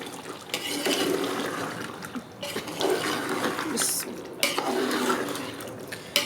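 Potatoes stirred with a spoon into a ghee-rich chicken curry masala for chicken aloo gosht, giving repeated wet scraping and sloshing strokes in bursts, with clinks against the pot and short pauses between them.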